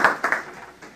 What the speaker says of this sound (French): Félicité Rigba, on va l'applaudir